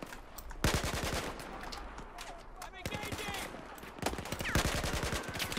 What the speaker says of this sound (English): Okay, who is shooting me?